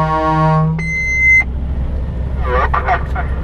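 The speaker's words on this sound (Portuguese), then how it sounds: "Ó, Dieguinho, dá pra ouvir a buzina no PDT, ó." A truck horn blares in two loud tones, first a low droning blast then a higher one, with a voice talking briefly afterward.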